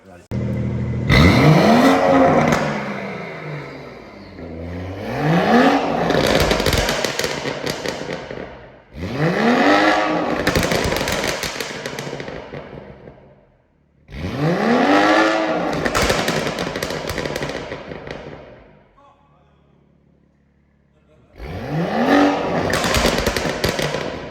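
BMW M140i fitted with a downpipe and with both intermediate silencers removed, revved hard in four loud, rising bursts with crackling pops between them and a short quiet gap before the last.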